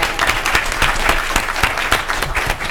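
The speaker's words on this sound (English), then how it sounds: "Let's give the students another round of applause" A room full of people at a school board meeting clapping steadily for students, a dense patter of applause with no voices over it.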